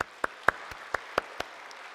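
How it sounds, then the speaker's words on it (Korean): A church congregation claps in unison at a Sunday evening service, seven sharp, evenly spaced claps in a quick steady rhythm, moderately loud and without talk. "주님께 영광의 박수를 한번 드립시다."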